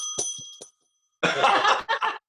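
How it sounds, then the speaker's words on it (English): A small hand bell rings once with a sustained metallic tone, close by, then people laugh loudly after a short pause. "I have a bell."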